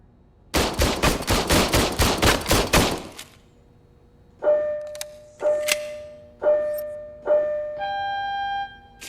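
Shooting practice in RoboCop Rogue City, starting with a rapid burst of about a dozen loud gunshots over three seconds. After a pause come four or five single heavier shots, each with a ringing metallic tail, and then a sustained tone.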